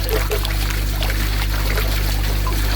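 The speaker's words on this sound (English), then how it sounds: "You can see the pump's trying its hardest to work." A struggling water pump drones with a steady low mechanical hum while water trickles and splashes unevenly close by, loud and continuous without speech.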